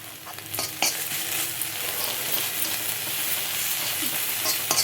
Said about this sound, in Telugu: ఇదిగోండి ఆనియన్స్ మంచిగా వేగుతూ ఉన్నప్పుడు